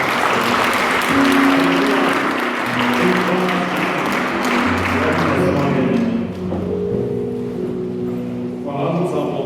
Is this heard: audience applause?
yes